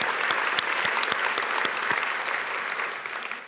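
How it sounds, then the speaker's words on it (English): A large room of attendees at a Queensland State of the State address breaks into sustained applause, a dense, even wash of many hands clapping that holds steady and fades slightly at the end. "Let's give them a big round of applause."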